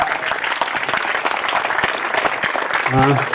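Applause from a college audience greets a former head of department returning as a lecturer, steady clapping throughout with a voice speaking briefly near the end.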